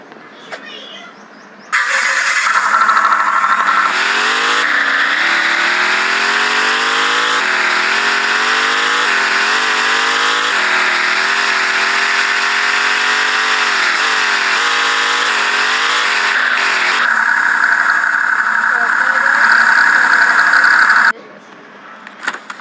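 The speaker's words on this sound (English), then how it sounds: "so yeah ఇదిగోండి మన BMW ఇప్పుడైతే వెళ్తుంది" A BMW M3 engine in the Vehicle Legends game drones loudly and continuously for about twenty seconds, its pitch rising and falling through gear changes as the car drives, then cutting off abruptly.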